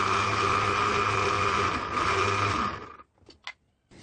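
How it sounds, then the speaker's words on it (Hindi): A kitchen mixer grinder blends strawberries and milk for a milkshake, giving a loud, steady, close motor roar for about three seconds before cutting off, followed by a few faint clinks. "थोड़ा सा और ग्राइंड करेंगे।"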